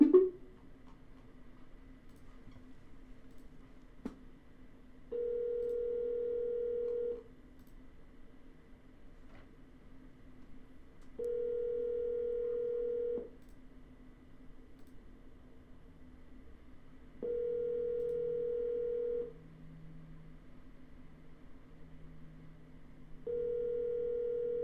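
A telephone line sounds a steady dial tone in repeated bursts of about two seconds each, separated by quiet gaps, with a faint low hum underneath between the tones.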